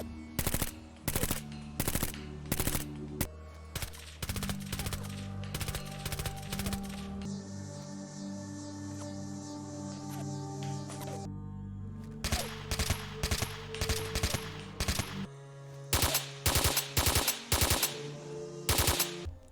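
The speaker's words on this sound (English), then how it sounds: "Here is the firing sound for the Mechanica SMG compared to a few other weapons that I commonly use" In Fallout 4, the Mechanica SMG and a few other ballistic weapons fire one after another: rapid automatic bursts, then a stretch of sustained fire, then more sharp bursts, all loud and close with no voices.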